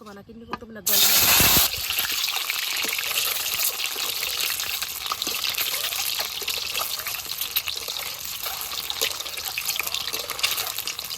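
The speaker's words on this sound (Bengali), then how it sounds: "ডিম ভাজি তেলের উপরে দিয়ে দিলাম" Eggs dropped into hot oil in a village kitchen: a sudden loud burst of hiss, then a dense continuous crackling sizzle that carries on close by, with a voice speaking over it.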